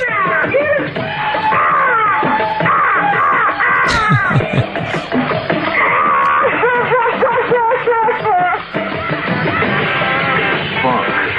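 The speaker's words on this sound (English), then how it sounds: "Sorry about that yelling and screaming" Men yell and scream wildly on a 1970 underground radio broadcast for Vietnam, the shouting continuous and loud over a dense, crackly band of sound throughout.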